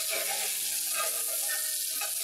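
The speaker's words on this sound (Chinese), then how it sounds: "两边总共煎七至八分钟就肯定熟噶啦" A halibut fillet pan-fries, making a continuous, close sizzle with a faint steady hum underneath. The sound is fairly loud and even throughout, with no one talking.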